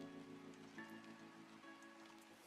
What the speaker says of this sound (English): The sound of that rain just fucking make me so relaxed.